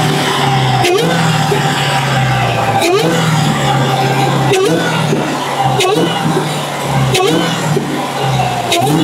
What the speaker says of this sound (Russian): сейчас я чуть-чуть газану